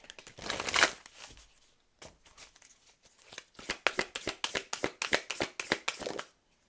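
Tarot cards being shuffled in hand, a long riffling burst then a quick run of sharp, rhythmic card slaps and snaps, close and clear with no talking.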